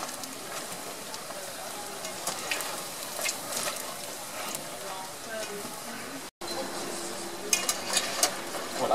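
Churros frying in oil inside a fryer give a steady, fairly loud sizzle with scattered crackles and pops, running continuously with a brief dropout near the end.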